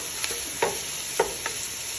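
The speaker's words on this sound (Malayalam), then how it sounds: "നല്ലപോലെ ബ്രൗൺ കളറാവുന്നത് വരെ ഫ്രൈ ചെയ്ത് കൊടുക്കുക" Onions frying in a pan until brown for a Kerala-style chicken curry: a constant bright hiss of oil with a few scattered spoon taps and scrapes.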